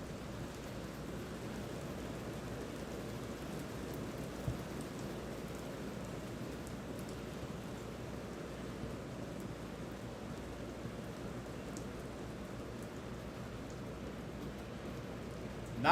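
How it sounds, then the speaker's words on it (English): Heavy rain pours steadily over an outdoor soccer match, a dense unbroken hiss of downpour lasting throughout, with no voices heard. "Rain is really coming down right now."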